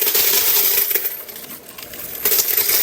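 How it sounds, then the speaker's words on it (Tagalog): Coins from a piso wifi coin machine pour out in a steady metallic jingle, a loud, close cascade of clinking change lasting a few seconds. "Pagtapos ko nga po palang kunin yung mga barya"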